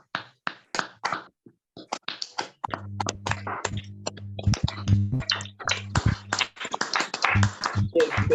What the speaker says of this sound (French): Est-ce qu'on peut applaudir pour le bambou des filles?